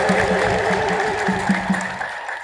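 A church congregation ululates in praise during an Ethiopian Orthodox sermon celebrating the Virgin Mary's birth, with dense, sustained trilling voices and rhythmic pulses filling the space, loud and continuous throughout.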